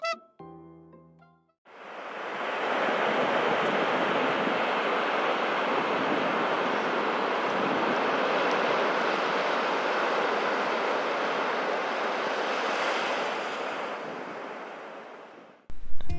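Steady roar of ocean surf washing in continuously, loud and broad, with a brief quieter moment at the start and a cutoff at the end.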